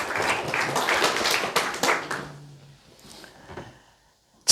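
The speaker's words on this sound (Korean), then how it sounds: "박수 하시겠습니다." A church congregation bursts into quick, dense applause that lasts about two seconds, then thins to scattered claps and fades into near silence before a sudden loud sound at the end.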